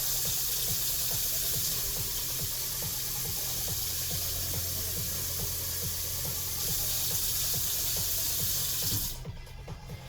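Steady rush of water pouring from a tap, constant and close, with faint clinks underneath before the flow changes near the end.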